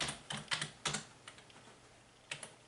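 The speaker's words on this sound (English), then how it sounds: "You can hear me typing in the two coordinates, the start and end coordinate of that line." Quick clusters of keystrokes on a computer keyboard as coordinates are typed for a laser cutting job, crisp taps close up in short bursts with pauses between them.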